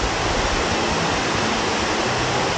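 Steady, dense rush of river water flowing, a constant broadband wash with no pauses, close and fairly loud, with no voices.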